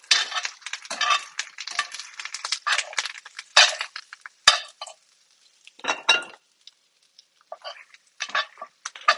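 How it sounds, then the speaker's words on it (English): Vegetables being mixed with utensils in a bowl, close-up, irregular clinks, taps and scrapes of metal on dishware in short bursts separated by brief pauses. "I'm going to mix my veg."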